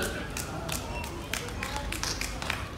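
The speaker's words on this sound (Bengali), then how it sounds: "ওর উৎসাহ করার হাততালি দিয়ে" An audience at a Rabindra Jayanti celebration claps to encourage a child's drawing, a scattered patter of many hands with a few sharper claps while someone speaks over it.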